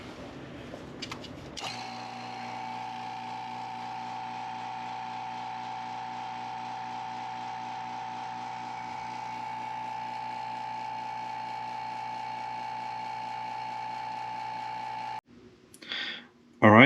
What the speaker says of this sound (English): we go ahead and put our tempered glass lid on here, and then we'll start up the vacuum.